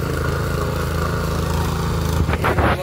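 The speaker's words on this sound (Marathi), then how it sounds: "ट्रॅक्टर चालू झालो म्हणून आता परत बघा" A tractor engine runs at close range with a steady, loud low rumble, then a few rougher bursts and scraping knocks near the end.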